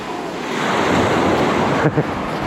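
Sea waves and wind on the Greek coast, a steady close rush of surf with wind buffeting the microphone and a couple of brief thumps near the end.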